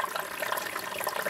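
Aquaponics water pump sucking air, giving a steady, busy gurgle of water and air bubbling close by, continuous with no talk.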